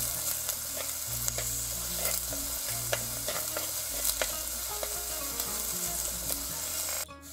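Chopped garlic, shallots and ginger fry with fenugreek in a pan, a steady close sizzle with the scrape and clatter of stirring running throughout and a low hum beneath.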